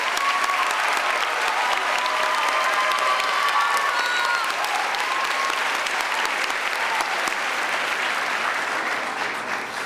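Loud, sustained applause from a graduation audience honoring White Oak Middle School staff, steady clapping that fills the whole stretch and fades slightly at the end.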